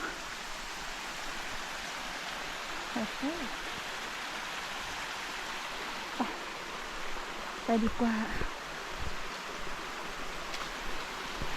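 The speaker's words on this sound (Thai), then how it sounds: "น้ำตกมาจากด้านในเนาะ" A forest waterfall and stream give a steady broadband rush of flowing water, with a person talking briefly and faint footsteps or rustling over it.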